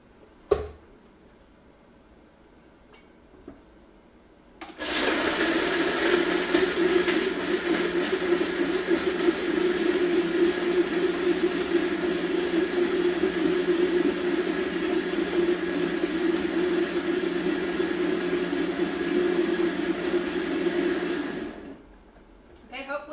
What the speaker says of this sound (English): I'm gonna go over here and blend this real quick.